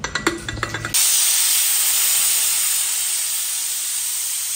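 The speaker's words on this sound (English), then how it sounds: "Now we are going to cover up our pressure cooker and pressure cook it." A pressure cooker cooking kichidi lets out a loud, steady hiss of steam that starts abruptly after a second of clattering kitchen sounds, then holds nearly constant close by.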